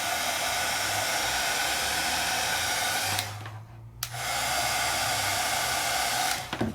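Heat gun blowing hot air onto embossing powder in a paper craft project, a loud steady whooshing roar that cuts off for about a second, then resumes and stops again near the end.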